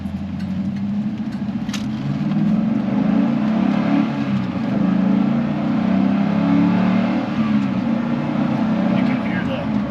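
A 4th-generation Camaro SS fitted with a Volant intake runs at a steady, loud engine drone, warming up with a dense low rumble that swells slightly as it revs.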